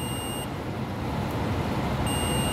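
A multimeter emits a steady high continuity beep while ignition points are set on a JAWA 500 OHC motorcycle engine; the tone cuts out for about a second and a half, then resumes over a constant background hum.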